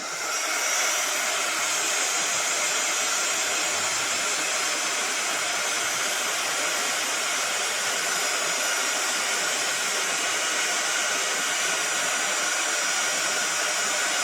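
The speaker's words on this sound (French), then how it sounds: "je prends un pistolet chauffant Excusez-moi, encore du bruit." A heat gun blows hot air onto craft embossing powder, a steady loud broadband whoosh like a hair dryer running continuously and close for the whole stretch, with no talking.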